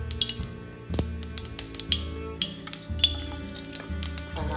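Mustard seeds spluttering in hot oil in a chatti while cooking tomato kuruma, with sharp irregular pops and crackles over a low sizzle, close and fairly clear, without talk.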